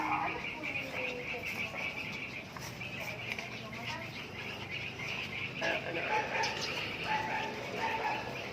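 A puppy barks in short yips outdoors, mixed with birdsong and background noise, while people speak nearby.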